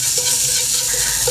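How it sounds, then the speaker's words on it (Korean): Paprika being stir-fried in a frying pan for Korean gujeolpan, a loud, dense, continuous sizzle with no talking. "파프리카를 한번 볶아 보겠습니다."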